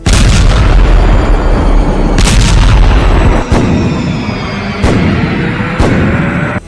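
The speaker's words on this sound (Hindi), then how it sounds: "तोप, लंबी दूरी के रॉकेट और लड़ाकू हेलीकॉप्टर से हमले किए जा रहे हैं" Heavy artillery and long-range rocket fire in the Russia-Ukraine war, a string of loud booms and sharp blasts in close succession, with rumbling echoes trailing between them.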